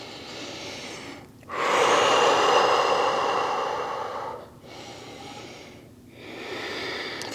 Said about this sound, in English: Inhale, exhale a couple of times.